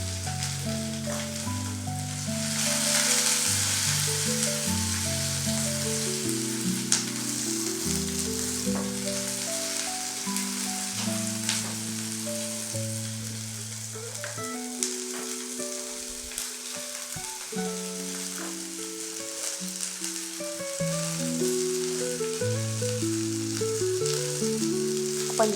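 Onion and cloves frying in a hot pan, a steady, close sizzle that holds for the whole stretch with occasional stirring clatter, while background music plays throughout.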